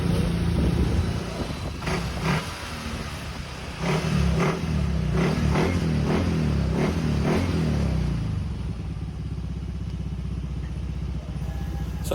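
Yamaha Mio i 125 scooter being test-run with its regulator removed, the engine idling with a rattly clatter and then blipped through a series of short revs before settling back to a steady idle, close by.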